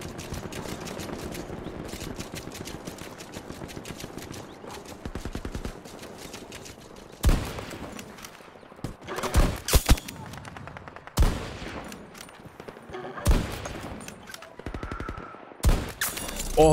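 Rapid gunfire in Battlefield 2042 at a long-range point about 400 meters out, steady bursts of automatic shots giving way to loud, separate single cracks, with no talk.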